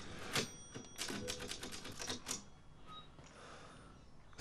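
Typewriter keys clack in the video game Resident Evil Village, a quick run of sharp mechanical strikes in uneven rhythm, close and crisp, then a softer carriage-like whir and faint tones as the typing stops.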